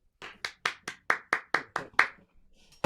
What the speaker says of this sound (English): I'm just going to assume people are clapping uproariously out there.